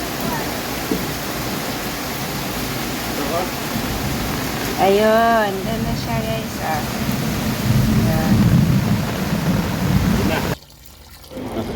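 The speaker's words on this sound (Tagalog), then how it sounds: "Suddenly heavy rain guys." Steady heavy rush of rain or pouring water fills the scene, with a person speaking briefly over it before it cuts off near the end.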